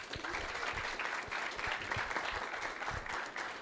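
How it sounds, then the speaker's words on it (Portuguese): Sustained audience applause during a lecture on the centenary of the Sampaio Corrêa football club, a dense, steady wash of many hands clapping at even loudness throughout, with no talk over it. "Eu pediria até, por favor, uma salva de palmas para ele"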